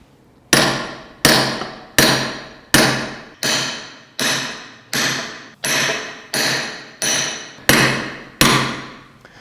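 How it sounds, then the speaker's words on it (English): Club hammer striking a bushing chisel on stone: a dozen loud, sharp metallic blows at a steady rhythm of roughly one per second, each ringing briefly before the next, close by with no talk. "you use a stone carving club hammer to strike them at the back"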